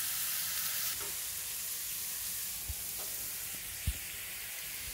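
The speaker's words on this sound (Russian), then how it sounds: "Теперь на крупной терке поджариваем натертую морковку." Coarsely grated carrot fries in a pan with a continuous, close sizzle, broken by a couple of brief clicks from the pan.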